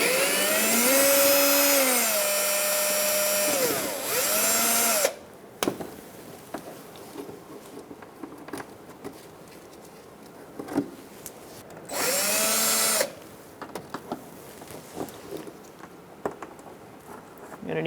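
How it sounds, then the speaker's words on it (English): Power screwdriver backing out push pins from the inner fender liner of a 2004-2009 Mazda 3, two loud whirring runs with rising and falling pitch, separated by quieter clicks and handling noises. "Using a Phillips head, we're going to remove these push pins"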